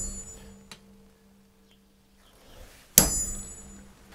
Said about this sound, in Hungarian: érdemes ütni bele egy ilyen pontozóval egy pöttyöt, azért, hogy utána a fúrónak a hegye a megfelelő helyre találjon be.